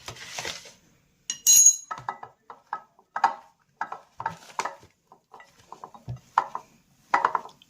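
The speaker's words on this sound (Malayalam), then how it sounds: "ഇനി നമുക്കത് ഇളക്കി വെക്കാം." A spoon stirs ivy gourd pieces with a spice mix in a bowl, giving sparse, irregular clinks and scrapes against the dish with quiet gaps between them.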